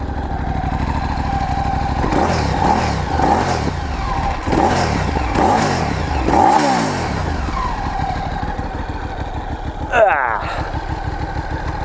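A 2019 Moto Morini Milano motorcycle engine idles steadily close by, then is revved repeatedly in sharp rising and falling bursts before settling back to idle, with a brief blip near the end.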